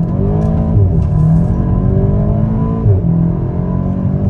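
A loud Volkswagen Golf VII GTI engine revs hard and climbs through the gears, pitch rising and dropping at each shift, close and continuous, reaching 100 km/h in under five seconds.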